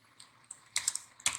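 A computer keyboard is typed on in short bursts, a few light clicks and then a quicker cluster of sharper keystrokes, close and alone.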